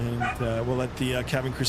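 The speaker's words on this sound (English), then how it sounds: "Sorry for the dogs, guys. My dog is just on cue." A dog barking and yipping in short, sharp bursts in a room, heard together with someone talking over it.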